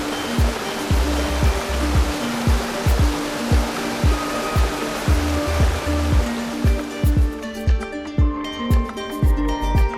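Ögem mountain river, home to trout and marinka fish, rushes in a continuous loud broadband roar of water with rhythmic low thumps throughout, close and steady.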